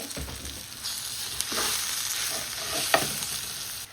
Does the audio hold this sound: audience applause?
no